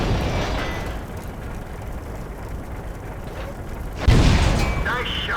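A tank cannon shot strikes an SU-85 in the World of Tanks video game, a sudden deep boom landing after a stretch of low rumbling battle ambience, with someone talking underneath.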